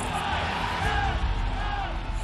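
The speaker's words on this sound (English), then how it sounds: "As soon as you see the first kick and hear the crowd chanting" Vancouver Whitecaps soccer match crowd creating a dense, continuous roar of chanting and cheering voices, loud and steady throughout without a break.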